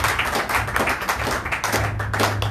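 A congregation in church claps and applauds in a quick, dense burst of hand claps, loud and close, with a low hum underneath and no talking.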